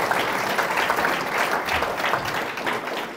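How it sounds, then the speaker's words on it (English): An audience at an art exhibition and symposium gives a round of applause, a continuous crowd of clapping hands that holds steady and then slowly eases off. "a round of applause for Gary"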